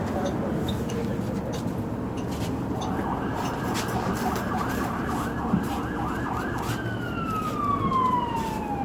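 A wailing emergency vehicle siren, police, fire truck or ambulance, rises and falls repeatedly over steady street traffic, starting partway in and sweeping upward near the end, with a person talking over it.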